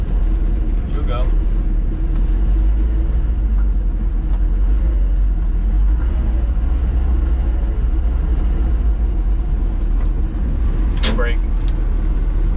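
A 55-year-old farm truck's engine rumbles low and steady as it runs and creeps along, reverse engaged, a constant close drone with a few faint squeaks and rattles, while people talk over it.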